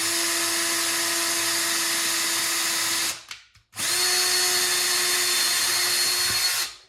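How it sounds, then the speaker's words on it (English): A power drill cutting in a Factory Five MK4 Roadster passenger footbox whines steadily at high speed, stops briefly for about half a second, then spins up again and runs until it winds down. "Also helps if you take the drill out of reverse, but it still cuts and nice and smooth"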